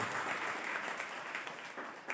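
A church congregation claps together during a Christmas 2020 service at Agape Calvary Church in Kalyandurg, a soft, steady wash of many hands that stays even and fairly distant throughout.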